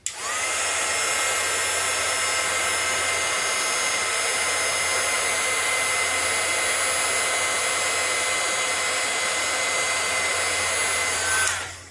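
A heat tool blows hot air onto embossed die cuts for heat setting, a steady loud whirring hiss that runs nearly twelve seconds, starting and stopping abruptly, with no talking.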